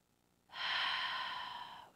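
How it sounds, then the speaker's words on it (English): A single deep breath drawn in through the nose, heard as one close, airy inhalation that starts abruptly and holds steadily for over a second before tapering off. "taking a big, deep belly breath in, or a soft, gentle breath in through the nose and out through the mouth"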